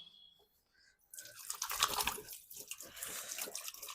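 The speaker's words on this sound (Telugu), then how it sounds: "ఇప్పుడు వచ్చేసి మనం అయితే హ్యాండ్ వాష్ అయితే వేసేసుకుందాం" Hands washed under a running tap, a quiet pause giving way to a steady close splashing stream of water over the hands that continues to the end, no talking.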